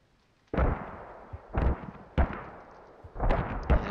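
Mortar rounds boom in the video game Squad on the Gorodok map: four or five heavy, deep blasts in a loose irregular rhythm, moderately distant, with short rumbling tails and no talking.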